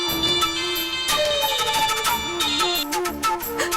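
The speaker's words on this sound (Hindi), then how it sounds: "फोन क्यों नहीं उठा रही है?" Phone ringtone playing a repeating electronic melody, ringing steadily on and on without being answered, loud and close with no voices over it.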